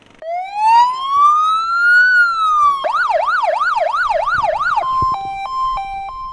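A fire truck siren rises in one long slow wail, then switches to a fast warbling yelp and a short alternating two-tone, loud and close, with no talking.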